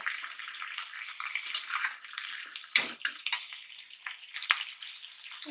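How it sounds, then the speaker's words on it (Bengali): Water poured into a hot pan of frying spices, including coriander powder, for a bean dish: a steady, close hissing splash with sizzling that rises and falls for several seconds and no voices. "একটু জল দিয়ে দিব যাতে মশলাগুলো একটু পুড়ে না যায়"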